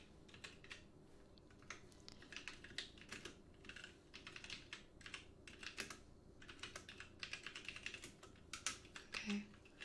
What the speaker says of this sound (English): I know my typing's really loud.